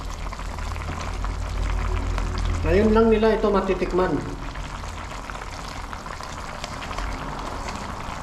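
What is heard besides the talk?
water boiling to soften bihon noodles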